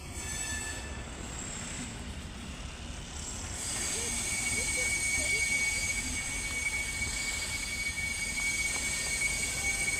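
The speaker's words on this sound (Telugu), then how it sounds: "ట్రైన్ సౌండ్, ట్రైన్ ఆగిన సౌండ్." A Hisar–Hyderabad express train slowing to a halt, wheels squealing with high metallic tones over a low rumble, growing louder midway; faint voices in the background.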